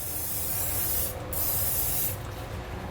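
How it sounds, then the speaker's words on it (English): An aerosol can of spray lubricant sprays in steady hissing bursts onto a gooseneck trailer hitch hanger, loud and close, with two brief pauses between sprays. "take some spray lubricant, spray the hanger down real good."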